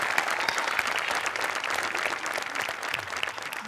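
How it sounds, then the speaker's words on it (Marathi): Audience clapping after a song performance on a Marathi comedy stage show, a steady dense wash of applause that continues throughout without pause. "आज तुझ्या गाण्यासाठी उभं राहून टाळ्या वाजवायला पाहिजे."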